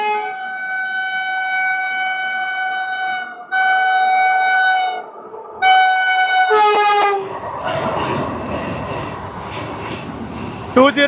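A Vande Bharat express running from Tirupati to Secunderabad sounds long, loud, tonal horn blasts in several bursts and then roars past close by as a broad rushing rumble of wheels and carriages.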